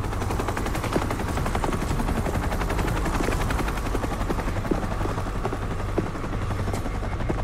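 A helicopter roars loudly and steadily throughout, its rotor thumping under rattling bursts of machine-gun fire in a zombie film scene.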